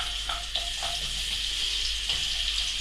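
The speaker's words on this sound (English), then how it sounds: "So I've got my bacon cooked, my onions are softening." Onions softening in a pan alongside cooked bacon over reduced heat, giving a steady close hiss and sizzle with a few light stirring clicks.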